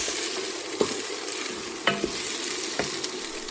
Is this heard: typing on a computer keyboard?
no